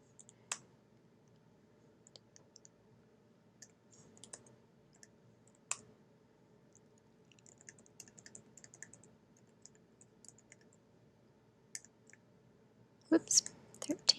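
Scattered keystrokes on a computer keyboard as numbers are entered into a spreadsheet, sparse soft clicks and short bursts over a quiet background, ending with a quick cluster of louder taps.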